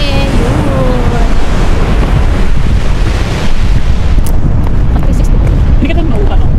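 Sea waves wash onto a beach at sunset in Jaffa, Tel Aviv, as a steady loud surf roar under heavy wind buffeting the microphone, with voices talking over it.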